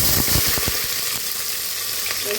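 Onions go into hot ghee and oil with whole spices for chicken biryani, frying in a loud, close, continuous sizzle with a few sharp crackles and spatters at the start.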